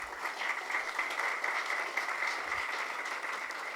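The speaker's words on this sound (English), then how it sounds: "A big round of applause." An audience at a Fiji children's hospital evening event breaks into steady, dense applause that holds at an even level throughout, with no voices over it.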